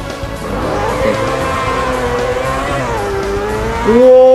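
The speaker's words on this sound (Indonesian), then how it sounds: "Wow, kenceng banget motornya." A motorbike in an extreme riding game runs flat out, its engine a continuous high revving drone that holds steady and then climbs sharply at the end.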